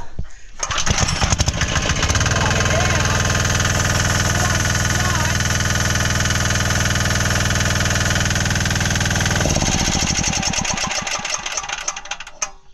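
A Mercury diesel outboard engine is started with a pull cord, catches after a brief rattling crank, and settles into a loud, steady, close chugging idle that eases off near the end.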